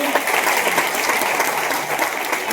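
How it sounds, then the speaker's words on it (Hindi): Loud, sustained audience applause fills a seminar hall in Bhilwara, a dense steady clatter of many hands clapping with no pause. "एक बार जोरदार ताली"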